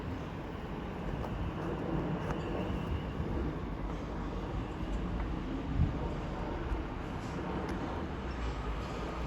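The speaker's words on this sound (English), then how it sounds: "As soon to pass through now will be a South Eastern pair of 465s going from Tunbridge Wells" A pair of Southeastern Class 465 electric trains passes through New Cross station as a steady, moderate rumble and rail roar that holds level throughout, with no talk.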